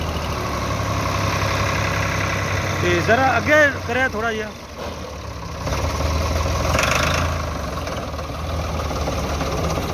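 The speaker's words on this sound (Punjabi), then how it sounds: "ਮੇਰੇ ਦੋਸਤਾਂ ਨੂੰ ਨਾ ਇਹਦਾ ਸਾਊਂਡ ਵਿਖਾਈਏ ਆ ਸਟਾਰਟਿੰਗ ਚੈੱਕ ਕਰੋ ਜੀ" A Ford 4610 tractor engine idles with a steady, close, low rumble that runs throughout, and someone talks briefly over it partway through.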